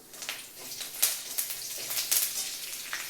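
Curry leaves crackling and sizzling in hot oil tempered with mustard seeds, heard as a close, faint bubbling hiss with sharp spitting pops scattered throughout.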